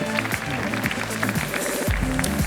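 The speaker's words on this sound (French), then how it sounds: "on peut vraiment les applaudir" An audience at a conference in France claps in a loose, steady patter, moderately loud and close, with scattered voices and tones running underneath.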